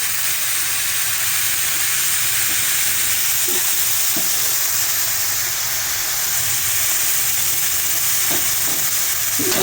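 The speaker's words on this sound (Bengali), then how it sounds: "এই যে দেখছেন শাক ভাজছি বন্ধুরা।" Leafy greens (saag) fry in a home kitchen pan with a steady, dense sizzle and hiss throughout, broken by a few soft clicks of stirring.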